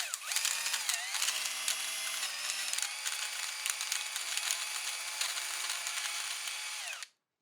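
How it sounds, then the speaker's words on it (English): A drill fitted with an extension grinds kernels inside a device, a loud, steady whirring motor drone with faint pitch shifts and rattling that runs unbroken for about seven seconds before cutting off abruptly. "we made a drill extension and then start grinding the kernels."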